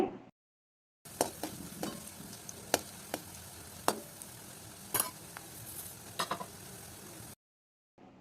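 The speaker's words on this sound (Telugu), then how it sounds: "వెల్లుల్లి ఆవాలు చక్కగా ఫ్రై అవుతున్నాయి" Garlic and mustard seeds frying in hot oil over a low flame, a faint steady sizzle broken by scattered sharp pops and crackles.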